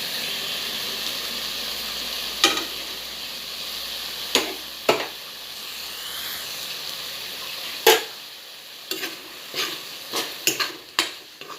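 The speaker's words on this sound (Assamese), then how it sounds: "দি অকণমান ভাজি ল'ম।" Steady sizzle of greens frying in a pan over a low flame, with several sharp clinks of a utensil against the pan scattered through, busier toward the end.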